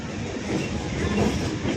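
A train rumbling steadily along the rails near Barasat, India, a dense continuous roar with rattling wheel noise, heard from close by inside or beside the carriage.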